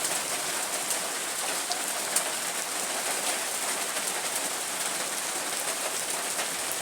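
Heavy rain with strong wind pours down steadily in a dense, unbroken hiss, loud and close throughout, with no voices.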